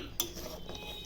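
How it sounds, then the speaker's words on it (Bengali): Fish pieces for a thin Bengali falli fish curry with potato and pointed gourd go into a simmering pot, giving a sharp metallic clink against the vessel, then a soft steady bubbling hiss with faint rattles. "মাছগুলো দিয়ে দিচ্ছি"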